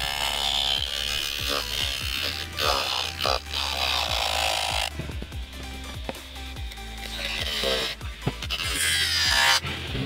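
A homemade mini grinder driven by a 12V DC motor buzzes and whines against a workpiece, its pitch wavering as pressure changes, with scraping bursts throughout and no talk.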